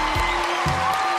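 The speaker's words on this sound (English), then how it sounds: "Give Sophia a big round of applause as well." Audience applause on a talent show stage, America's Got Talent: a brief, loud, dense wash of clapping and crowd noise, steady across the moment.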